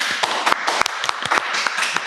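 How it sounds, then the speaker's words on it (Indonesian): Crowd applause for guests at a casual talk-show recording, a steady patter of many hands with sharp individual claps popping out, continuous and fairly close. "Tepuk tangan untuk teman-teman semuanya"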